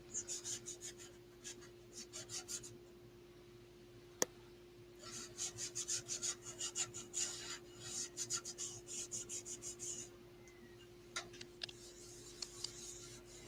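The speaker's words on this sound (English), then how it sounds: "Jay, that looks like you're facing that chisel uphill by the angle on your rest." Woodturning chisel held against the tool rest and scraping wood on a lathe, repeated rasping bursts with a steady hum underneath, close and moderately quiet, with one sharp click partway through.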